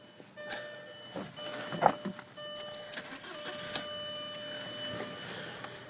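A 1999 VW Passat 1.8T idling with fresh spark plugs, a low steady engine hum under a chime-like warning tone and some keys jangling close by.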